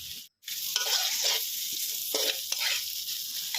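Mala sauce with soy sauce, sesame oil and sugar is stir-fried with shrimp, a loud close sizzle that drops out briefly at the start, then returns with scraping stir strokes, no voices.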